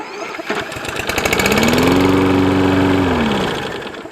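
A Toro Recycler 22-inch lawn mower with electric start cranks and fires up. A rapid mechanical chatter swells into a rising engine drone that holds steady, then drops away, loud and close.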